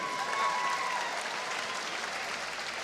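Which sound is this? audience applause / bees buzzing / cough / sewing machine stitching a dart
audience applause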